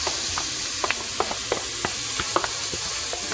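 Onions, peppers, celery and scallions fry in a hot gumbo roux, a constant close sizzle broken by repeated quick stirring scrapes and clicks, with no voices.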